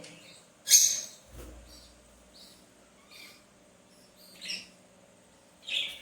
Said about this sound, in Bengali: এই দেখো রেড আই পাখি খুব সুন্দর